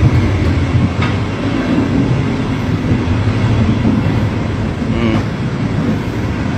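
A long train of railway carriages rolls steadily along the rails in South Sulawesi, a continuous rumbling wash with faint clickety-clack accents, heard close and loud.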